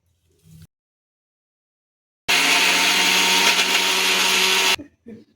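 A kitchen mixer grinder whirs loudly for about two and a half seconds, grinding coconut chutney with chilli, tamarind, rock salt and coriander leaves, starting and stopping abruptly between short quiet gaps.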